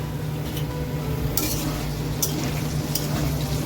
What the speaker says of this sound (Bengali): আর এবার আলুগুলোকে ভেজে নেবো